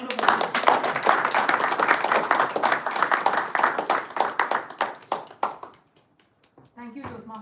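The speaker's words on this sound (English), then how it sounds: "Please give us a round of applause." An audience at a Toastmasters club meeting in Dubai claps in a dense burst of applause that thins into scattered claps and dies away, followed by a brief voice.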